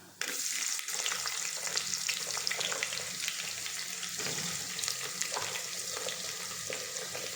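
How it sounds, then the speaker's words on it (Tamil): Onions frying in hot oil with cinnamon and cloves for Kongu-style mutton biryani, a steady bright sizzle with occasional stirring, close and continuous. "இப்போ வெங்காயத்தை சேர்த்துக்கலாம்."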